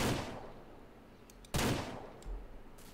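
Pistol shots in the Ranch Simulator video game: two sharp, loud reports about a second and a half apart, each with a fading tail, plus faint clicks between them.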